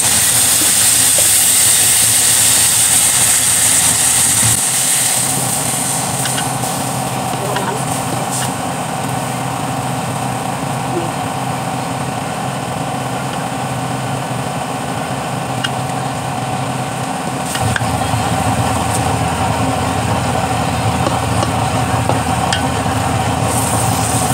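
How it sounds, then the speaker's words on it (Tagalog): Sliced pork marinated in calamansi and soy sauce sautéing in a pan for Bicol-style igado, giving a loud, steady hiss and sizzle that runs unbroken throughout with no talking. "At ilalagay ko na po dyan ang aking in-slice na pork mga lods. Binabad ko na po ito sa kalamansi at toyo. Gigisa na po natin dyan."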